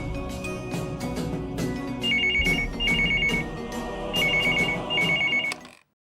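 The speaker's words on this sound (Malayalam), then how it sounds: "ലാൻഡ് ലൈനിൽ വിളിച്ചു നോക്കാം." A telephone rings while calling a landline, giving a loud, close electronic trill in repeated short bursts over a busy background, then cutting off abruptly.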